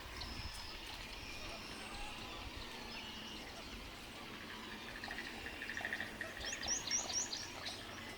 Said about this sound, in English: You hear the prothonotary warbler in the background.